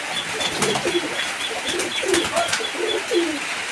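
Pigeons at a busy pigeon market in Khalishpur, Khulna coo in soft, overlapping low throaty calls, with wing flutters and a bustling crowd murmur around them.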